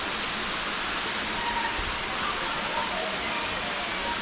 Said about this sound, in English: Got two waterfalls.